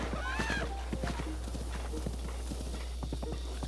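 Horse hooves clip-clop at a gallop in the video game Breath of the Wild, a brisk, steady run of close thuds under game music and ambience.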